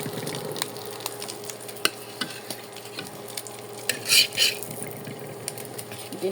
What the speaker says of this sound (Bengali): ডিমটা ভেজে নিচ্ছি।